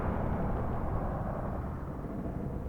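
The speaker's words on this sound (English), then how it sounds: "Suddenly, explosion." An explosion in a Minecraft hotel adventure map comes across as a sustained, heavy low rumble that stays steady throughout with no other sounds.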